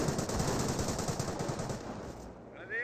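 Sustained rattling gunfire from grenadier squads in the World War II strategy game Company of Heroes, dense and loud for about two seconds, then cutting off abruptly.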